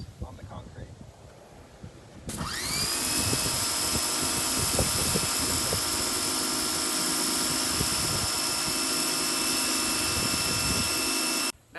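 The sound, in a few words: Generac pressure washer turbo nozzle spraying concrete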